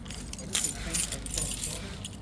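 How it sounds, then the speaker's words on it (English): A bunch of keys jangles in bursts as a car is unlocked, close and bright, with clinking clusters repeating over a couple of seconds. "It will help if I actually unlock the car first"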